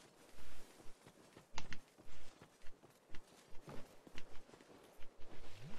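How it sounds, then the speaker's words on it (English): Skeleton enemies chasing the player in Dark Souls 2, their footsteps landing as irregular clattering thumps, some sharp and loud, spread across several seconds with no talking over them. "I hear their footsteps."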